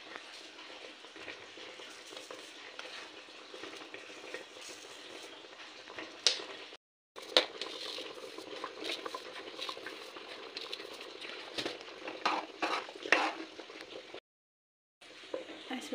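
Silverberry (musleri) jam cooking down with sugar in a pot gives off a steady soft bubbling and stirring patter throughout, with a few brief scrapes and two short silent gaps.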